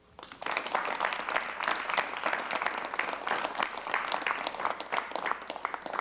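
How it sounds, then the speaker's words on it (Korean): Studio audience applause welcoming a guest on a Korean television talk show, a dense, sustained burst of many hands clapping that swells quickly and then holds steady, close and fairly loud. "여러분 박수로 환영해 주십시오."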